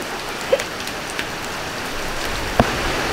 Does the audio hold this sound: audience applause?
no